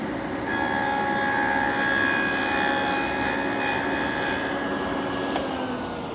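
A table saw fitted with a dado blade cuts a rabbet in a wooden board, giving a loud, sustained whining hum with a grinding edge that runs about five seconds before winding down.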